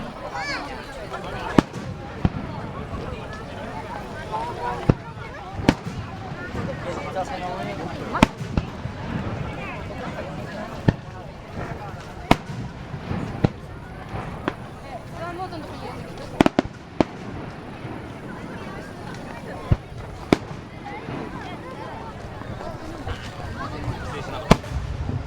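Fireworks launched at the Mito Komon festival: sharp, distant bangs and pops burst out repeatedly over a steady crowd murmur, with scattered voices throughout.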